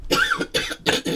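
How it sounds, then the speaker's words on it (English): A seven-year-old child coughs three times in quick succession, each cough a short, close, rough burst followed by a brief pause. "Don't cough on me."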